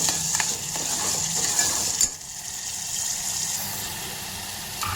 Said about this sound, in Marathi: याला पण परतून घेते थोड्या वेळ